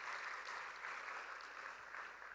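Applause from an audience for the artists performing at a cultural festival programme in Varanasi, a steady, fairly faint wash of many hands clapping with no voices over it.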